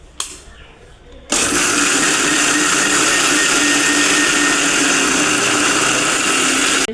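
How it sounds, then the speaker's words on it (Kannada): Kitchen mixer grinder runs at full speed grinding soaked batter for paddu, a loud steady whine that kicks in after a second of quieter handling and holds unbroken to the end. "ಕ್ಲೋಸ್ ಮಾಡಿ ಮಿಕ್ಸಿಯಲ್ಲಿ ಹಾಕ್ಕೊಳ್ತಾ ಇದ್ದೀನಿ"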